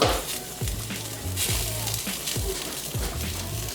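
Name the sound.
chiles and tomatoes roasting on a pan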